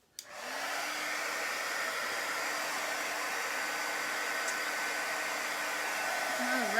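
A hair dryer runs steadily at close range, blowing over a piece of furniture freshly coated with chalk paint, a continuous even whoosh from start to finish after a brief click as it switches on.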